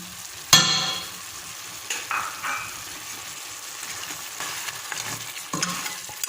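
Potatoes cook in a pot with a low, steady sizzle, punctuated by a sharp metallic clank and a few scraping stirs spread across the stretch, close up and with no speech.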